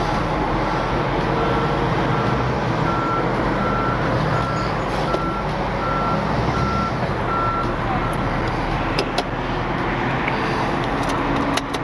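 A truck's reversing alarm beeps steadily and evenly over a constant low engine rumble, loud and close, while the truck shifts position during a winch-out and drop-off job.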